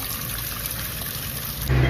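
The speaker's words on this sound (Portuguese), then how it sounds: "Abre o registro agora. Água forte." Water gushing strongly from a residential supply line after the valve is opened, a steady loud rush that surges even louder near the end.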